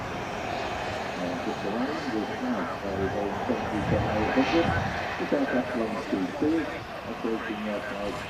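A jet airliner at Manchester Airport gives a steady distant engine roar under continuous conversation between two people watching.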